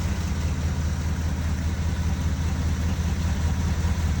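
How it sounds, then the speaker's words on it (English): A worn Chevy 350 V8 idling in a 1972 El Camino with a broken motor mount, a steady low rumble with an even, pulsing beat, heard up close and unchanging with no voices present. "Just let it idle in here until it overheats,"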